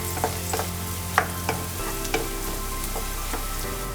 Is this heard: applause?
no